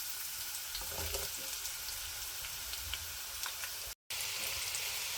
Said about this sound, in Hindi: अब हम इसमें ओनियन कटे हुए डाल देते हैं।